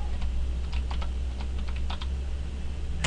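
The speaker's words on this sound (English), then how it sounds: "I'm going to type in IP default gateway" Rapid, uneven keystrokes on a computer keyboard as a networking command is entered, clicking clearly over a steady low hum with no talking.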